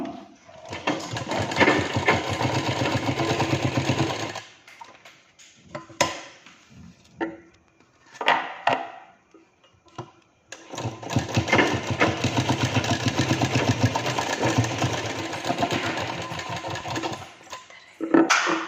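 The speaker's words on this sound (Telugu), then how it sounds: "దీనిపై ఒక స్టిచ్ అయితే వేసుకుంటున్నాను" Domestic sewing machine stitching a fold on a blouse, two long runs of dense mechanical whirring near the mic, separated by a pause filled with short handling clicks and brief bursts.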